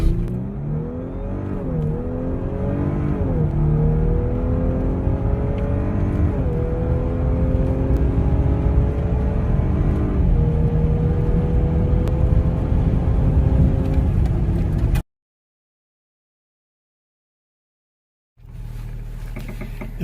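Audi B9 S4 with its stock airbox accelerating hard on an eighth-mile run, engine note climbing steadily through several gear shifts for about fifteen seconds, then cutting to silence before the engine rumbles again near the end.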